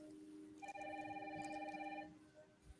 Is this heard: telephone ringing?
yes